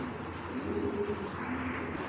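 Big male Giribaz pigeon cooing in low, soft, repeated tones, with a faint steady background hum.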